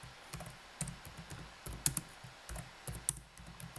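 Fingers tap out a short burst on a computer keyboard, light clicky keystrokes arriving in uneven clusters with brief pauses, quiet and close in an otherwise still room.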